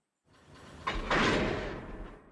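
Railroad cars in the Railroader game roll together and couple, a soft rolling rumble building into a heavy metallic clunk, then a long rumbling, rattling slam that slowly fades, close and alone.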